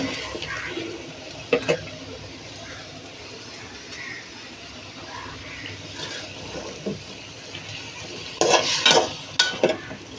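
Cauliflower frying in a pan while being stirred, a soft sizzle with occasional utensil scrapes and a burst of louder clatter near the end.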